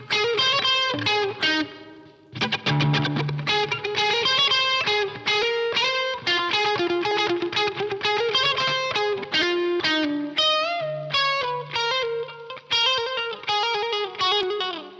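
An electric guitar with its pickup coil split, recorded at home, plays distorted chords and single-note phrases in bursts, loud and close, with brief gaps between runs.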